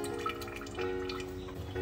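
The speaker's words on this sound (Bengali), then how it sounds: "এখানে আদা রসুন পেঁয়াজ যা যা আছে সব ভালো করে ধুয়ে নেব।" Running water splashes steadily over ginger, garlic and onion as they are rinsed in a kitchen, with faint dripping and trickling throughout the short stretch.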